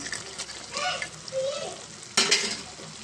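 Tomato gravy with fried dried fish simmering in a pan, a soft continuous sizzle with stirring scrapes and a louder burst of frying toward the end, close up with no talk.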